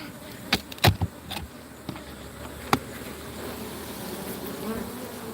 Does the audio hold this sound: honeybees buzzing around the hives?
yes